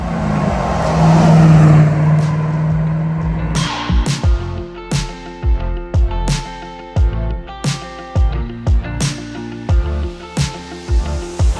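A GM LS3 6.2L V8 in a restored Land Rover Defender 90 idles with a loud rumble, then a series of sharp throttle revs blip rhythmically, close and powerful.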